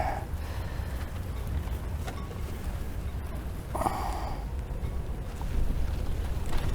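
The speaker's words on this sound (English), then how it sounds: "The wind always starts blowing when I do this." Wind blows steadily outdoors while gelcoat is applied to a boat, a loud continuous rumble buffeting the microphone with occasional brief gusts, no voices.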